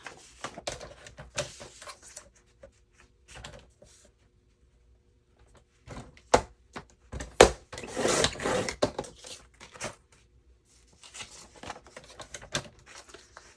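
Scissors snipping through paper scraps for Christmas junk journals, a scattering of crisp cuts and rustles, some in quick clusters and others spaced apart with quiet pauses between, close up with no talking.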